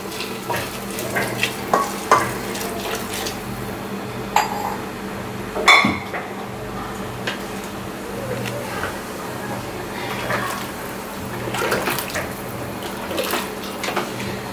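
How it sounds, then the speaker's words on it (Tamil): Boiled water is poured over soaked seeraga samba rice for a country chicken biryani, a running splash and sizzle with scattered clinks of utensils, fairly close and steady throughout. "அந்த தண்ணியை எடுத்து இப்ப நம்ம அரிசி கூட சேர்த்துக்கலாம்"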